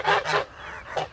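A flock of geese over three months old honks in short nasal bursts, several close calls in quick succession.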